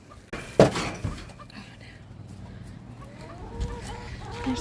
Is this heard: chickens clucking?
yes